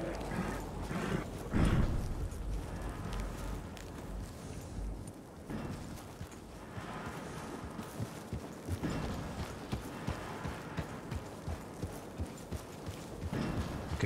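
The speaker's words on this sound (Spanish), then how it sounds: "Quédate aquí, caballo." Hooves clip-clop steadily from a horse in the Western video game Dead West RP, moderately loud over a dense, busy game soundscape, with no talking.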